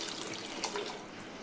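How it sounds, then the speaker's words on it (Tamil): Water pours steadily into a cooking pan for fish curry close by, a continuous splashing hiss with faint trickling, brief and fairly quiet. "கொஞ்சோடி தண்ணி ஊற்றிக்கிறேன்."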